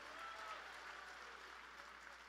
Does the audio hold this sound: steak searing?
no